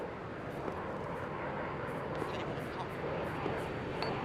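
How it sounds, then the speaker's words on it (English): A jet aircraft in the Arma 3 military game roars with a broad, steady engine wash at moderate distance, continuous throughout with no speech. "Third and final jet is now in the air."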